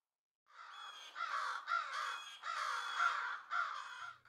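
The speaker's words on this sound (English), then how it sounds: "Crows are very well known for their intense mobbing behavior. Calling out loudly, they summon others nearby" Several crows caw in repeated harsh bursts while mobbing an owl, calls overlapping in a ragged rhythm at moderate distance against an otherwise quiet background.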